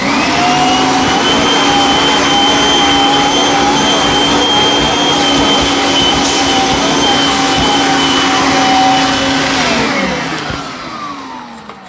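A Kirby Avalir canister vacuum cleaner runs steadily and loud throughout with a high whine, then winds down near the end as it is switched off.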